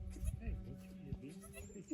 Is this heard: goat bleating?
yes